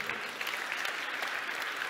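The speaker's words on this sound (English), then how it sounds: "Applause for sure" Audience applause at a tech conference talk on ReactVR, a steady dense wash of clapping from a crowd throughout, loud and close, with no clear speech over it.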